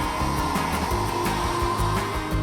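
A table saw cuts wood boards for a shadow box, a loud, steady motor drone with a humming whine that holds level throughout.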